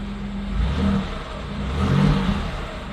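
A 1990 Buick Reatta's 3.8L V6 runs smoothly after a mass airflow sensor replacement, a close steady engine hum with two brief rising revs of the throttle.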